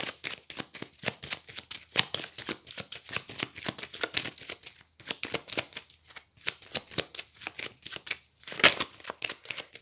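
A deck of tarot cards is cut and shuffled close up: a rapid, steady stream of crisp riffling slaps and flicks with brief pauses between bursts, quiet and alone.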